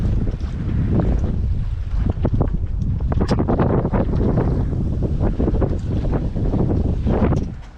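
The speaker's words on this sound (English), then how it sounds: "It's kind of windy." Strong wind buffets the microphone on a sailboat departing Cadiz, a loud continuous rumbling roar with gusty surges and splashing water underneath.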